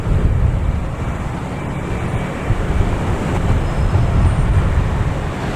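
An American Airlines jet taxis back to the gates at Boston Logan Airport, a steady low engine rumble with broadband roar, distant and even, mixed with wind noise and no talk.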